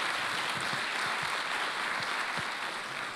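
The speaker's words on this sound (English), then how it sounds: "give one more round of applause to our fabulous speakers and Roseanne for moderating today." Audience at an economic outlook event applauding the speakers, a sustained wash of clapping from many hands in a room, steady and moderately loud without voices.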